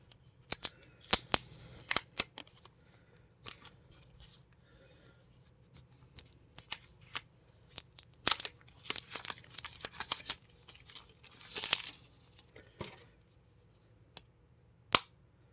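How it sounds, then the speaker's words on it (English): Packaging film peels and crinkles off a Google Pixel Buds case in close, quiet handling. Sharp tearing and crackling bursts come through, with a few snapping clicks scattered throughout. "let's go on ahead and get a closer look here so we can get a good look at the peel off and our first crack into the case."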